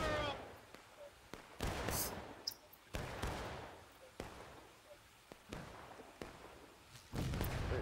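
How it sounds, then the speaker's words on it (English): Cannon and rifle fire in the Civil War battle game War of Rights, a series of sharp booming shots at irregular intervals, some near and loud, others more distant, with players talking between them. "They got a cannon up there now."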